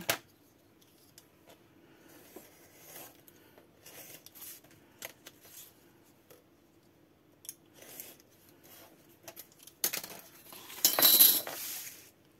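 Scissors snipping paper while making a pop-up scrapbook album card, scattered quiet close cuts and rustles, ending in a louder burst of crisp paper handling.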